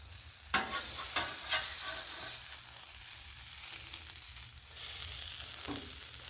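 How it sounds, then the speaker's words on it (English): Chicken searing on a hot Blackstone griddle, a loud close sizzle with spatula scrapes and taps early on, settling into a steady hiss. "Oh, it's got the nice sear. I love the griddle sear."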